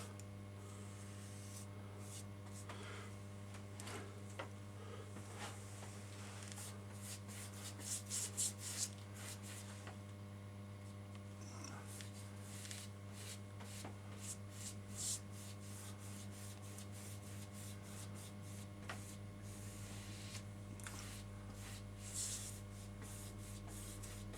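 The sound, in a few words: brush painting a coat onto N gauge model railway platforms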